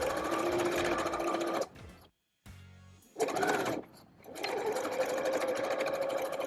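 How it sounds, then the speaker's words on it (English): A sewing machine stitches the waistband of an elastic-waist skirt in rapid bursts of whirring needle action, pausing briefly in the middle for a back-and-forth reversal, close and loud. "And then we're going to sew it here and here, back and forth a couple times."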